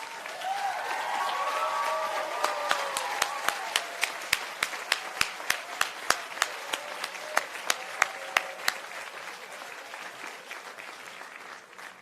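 Families, friends and loved ones get a round of applause at a physical therapy white coat ceremony: broad clapping with a few early cheers and whistles, crisp individual claps standing out, tapering off near the end.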